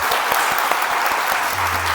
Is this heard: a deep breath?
no